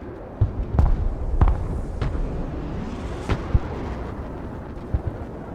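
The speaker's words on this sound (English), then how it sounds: "Counter battery fire continuing." Distant artillery booms and impacts from counter-battery fire in the video game Broken Arrow, with several sharp reports spread irregularly over a low rumbling battlefield bed.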